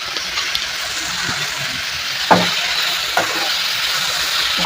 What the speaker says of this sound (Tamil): உப்பு சேர்த்து நல்லா வதக்கி விட்டுக்கலாம்.